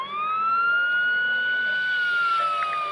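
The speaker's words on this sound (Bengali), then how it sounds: "তারা বুদ্ধি করে একটি পুলিশের গাড়ির সাউন্ড বাজায়" A police car siren plays in a Bengali cartoon, a single steady rising-and-falling wail that is loud and clear, with no talking over it.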